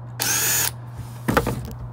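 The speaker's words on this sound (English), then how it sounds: "Go ahead and pre-drill a bit before, so we know where the hole is." Power drill pre-drills a hole in a table, a short high whirring burst followed by a second brief drilling spurt, close and clear against a low steady hum.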